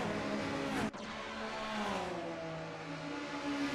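1990s touring cars racing in a sim racing game, engines roaring and revving near, with a sharp whoosh as a car flashes past early on, then sustained engine drone and shifting pitch as the pack heads down the straight.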